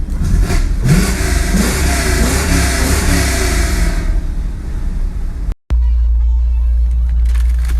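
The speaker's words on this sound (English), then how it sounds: "It came factory with a 425 cubic inch big block with two 4-barrel carburetors." A 1964 Buick Riviera's factory 425 cubic inch big block V8 with two four-barrel carburetors revs loudly up close for about five seconds, then cuts off abruptly, leaving a quiet background.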